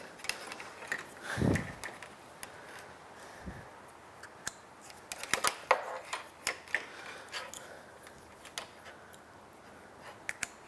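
Plastic power harness connectors for an LED grill light kit on a 2017+ Ford F250 Super Duty snapping together, a series of sharp close clicks scattered among softer handling rustles.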